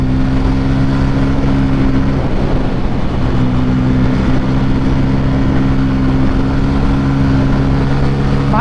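A Bajaj Pulsar N250 motorcycle engine drones steadily and loudly while being ridden through city traffic, holding a constant hum with little change in pitch and no voices over it.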